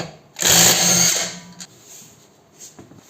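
A power impact wrench spins off a wheel nut on a SEAT Ibiza 6L with a 17 mm socket, one loud close whirring burst of about a second followed by quieter clicks and short rattles.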